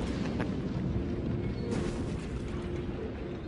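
Chain gun fire and explosions in Resistance: Burning Skies rumble as a heavy, continuous low roar of booms and bursts, with a sharper blast partway through.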